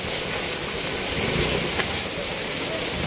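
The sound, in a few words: heavy rain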